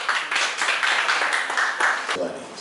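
An audience claps at a marathon press conference, a dense patter of hand claps lasting a few seconds, fairly near, with voices mixed in.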